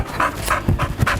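A young, energetic two-year-old pit bull terrier pants rapidly and close by, quick rhythmic huffs repeating about four times a second, with no talking.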